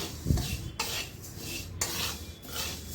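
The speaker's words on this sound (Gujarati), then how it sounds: "તો આપણે હવે આને ધીમા ગેસે આપણે શેકી લઈશું" Flaxseed roasting in a pan over a low gas flame, stirred with a utensil: continuous close scraping and rustling strokes across the pan, with a few louder sweeps roughly every second and a faint hiss underneath.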